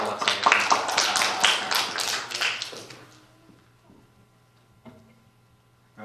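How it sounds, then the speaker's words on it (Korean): Congregation applause in a Korean church service, welcoming members back: a burst of brisk hand clapping for about three seconds that quickly fades to near silence, followed by a faint tap. "환영의 박수 하겠습니다"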